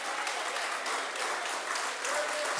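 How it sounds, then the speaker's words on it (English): Audience applause at a Jamaica Civil Service Association annual general meeting, a continuous wash of many hands clapping steadily throughout, loud and dense with no pauses. "I think we need to give the Prime Minister a round of applause, a standing ovation."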